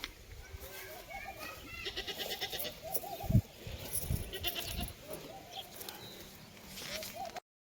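A goat bleats several times, its calls repeating through the scene among other farm sounds, while someone talks over much of it.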